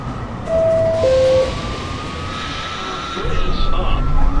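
A downtown 1 train pulls into 207 Street Station on the New York subway after a two-note chime, its rumble swelling louder toward the end beneath an automated platform announcement.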